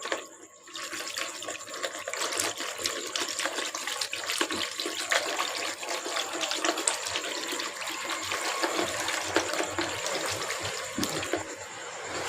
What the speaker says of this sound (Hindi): इसको हाथ से अच्छी तरह से मिक्स कर लेते हैं